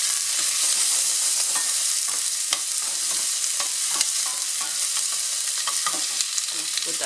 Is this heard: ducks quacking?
no